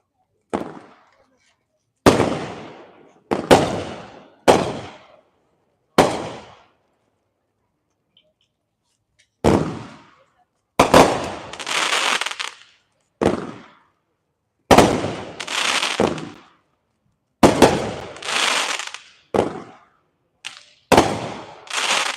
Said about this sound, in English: This one is an 18-shot cake from Great Grizzly.